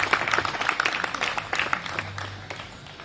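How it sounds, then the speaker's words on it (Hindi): Audience applauding to welcome a poet at a shayari recital, a dense patter of many hands clapping at once that tapers off over a few seconds. "जोरदार तालियों से स्वागत कीजिएगा आनंद रघुनाथ का।"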